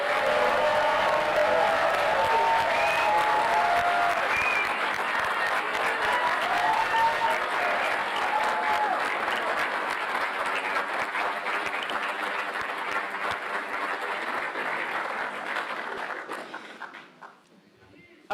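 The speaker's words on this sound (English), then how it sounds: "please join me in a big round of applause for the class of" A large audience at a pharmacy school white coat ceremony applauds the class of 2023 with long, dense clapping mixed with cheers and voices, gradually thinning and fading out near the end.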